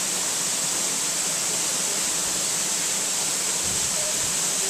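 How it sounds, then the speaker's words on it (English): Diamond waterfall at the Diamond Botanical Gardens in St. Lucia, where hot sulfurous mineral water falls, gives a loud, steady hiss of rushing water that holds unchanged, close and without pause. "Diamond waterfall."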